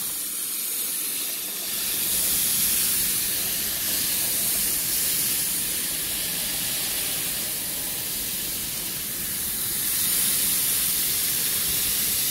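Continuous spray hiss of coil cleaner directed straight down onto the coil of a Carrier package air conditioning unit that is not cooling, steady and close for the whole stretch with no talking.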